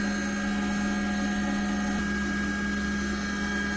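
A CNC milling machine spindle spins at 12,000 RPM with coolant running while machining tiny parts, giving a steady, loud, unbroken whine and hum with constant tonal bands and no talking.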